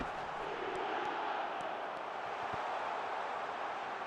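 A stadium crowd in the eFootball 26 mobile football game roars in a continuous, dense wash of noise, steady and even throughout with no commentary over it.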